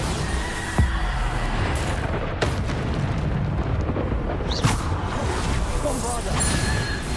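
Bombarda explosion spells from the Hogwarts Legacy game burst repeatedly amid constant loud rumbling combat noise, with sharp blasts standing out near the start and middle.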